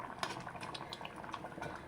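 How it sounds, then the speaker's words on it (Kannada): Drumstick sambar boiling in a pot, a soft steady bubbling and gurgling of thick liquid heard close and alone at low volume. "ನೋಡಿ, ಚೆನ್ನಾಗಿ ಬೇಯ್ತಾ ಇದೆ."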